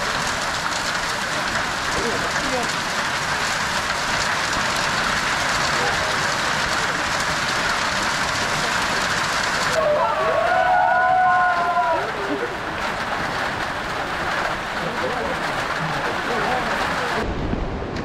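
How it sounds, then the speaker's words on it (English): Steady rain falls on the Annapurna Base Camp trek as a continuous, even hiss, with a person talking briefly midway through the downpour. "Right now it's raining, so we decided to take a pause here"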